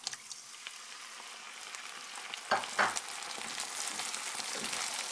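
Chopped tomatoes fry with browned onions in a pan, giving a soft, steady sizzle with a couple of louder stirring scrapes partway through.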